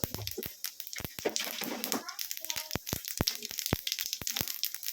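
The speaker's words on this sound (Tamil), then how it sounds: "ஆயில் ஹீட் ஆனதும் கடுகு ஆட் பண்ணிக்கலாம்." Mustard seeds pop and splutter in hot oil in a pan, sending sharp crackles scattered irregularly throughout, with a brief louder sizzle burst early on and a voice talking quietly underneath.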